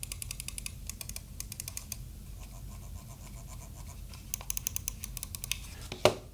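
Rapid clusters of crisp, close clicks from the buttons of a Roccat Burst Pro Air gaming mouse, repeated in bursts with short pauses and no talk.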